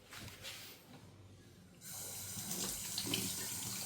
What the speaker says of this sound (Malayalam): ഇത് നമ്മൾ കൈയൊന്ന് കഴുകുന്നു.